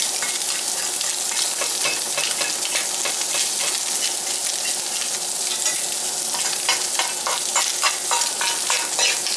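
A working man's breakfast fries in a pan with eggs cooking in the middle, producing a loud, close, continuous sizzle with bursts of sharp crackling and popping throughout; no one speaks.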